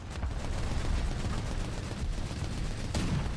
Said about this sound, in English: This MAUS has an entire armada of machine guns.